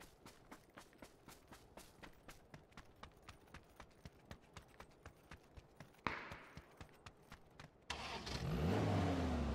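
Steady rhythmic clicks give way to a car in a video game starting and speeding off, its engine roaring up loud and close at the end.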